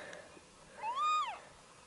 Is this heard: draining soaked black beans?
no